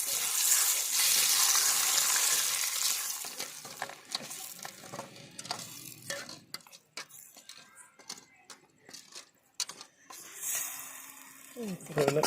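Spices tempering in hot oil on a wood-fired stove, a loud hissing sizzle at first that fades into softer crackles and stirring clatter, with a person talking over it.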